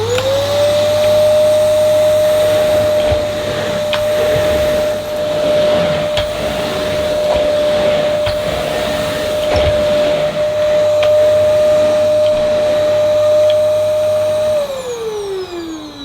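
A Simplicity SV1 tub vacuum cleaner runs on full suction, giving a loud, steady whine and motor roar pushed across plush Saxony carpet. The tone holds level for the whole stretch, then winds down at the end.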